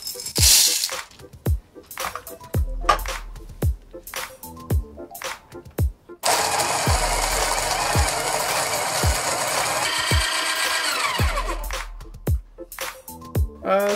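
Breville Smart Grinder Pro grinds coffee at setting 8, a steady dense whir running for several seconds in the middle, with clicking and ratcheting taps before and after.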